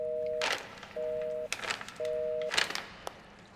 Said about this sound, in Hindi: फोन नहीं लग रहा।